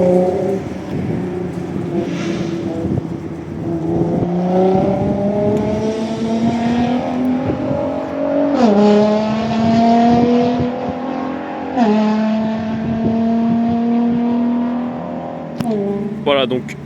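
Nissan GT-R cars with 3.8-litre twin-turbo VR38DETT V6 engines revving and pulling away at a car meet in Osaka, several loud, rising engine sweeps with gear shifts and sharp blips at the end, a voice talking over them.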